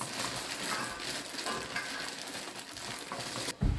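Fresh cranberries, two bags' worth, tumble into a pot for a homemade Christmas gift recipe, giving a steady rattling, sizzling-like rush that continues throughout and ends in a brief louder clatter.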